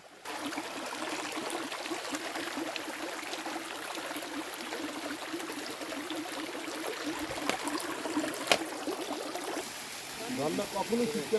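Khoiyachhori waterfall and its stream in the hills make a steady, even rush of falling water that fills the background, with people talking nearby.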